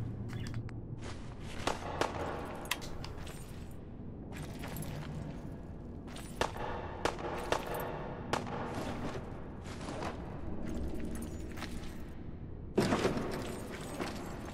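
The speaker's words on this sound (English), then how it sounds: "Somebody downstairs is shooting at that alarm clock." Distant gunfire inside the video game Fallout 4, coming from somewhere downstairs: scattered sharp shots and short bursts recur irregularly over a steady, murky background, faint rather than close.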